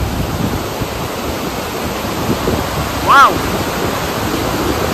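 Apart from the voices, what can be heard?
roaring waterfall in the Kyrgyz mountains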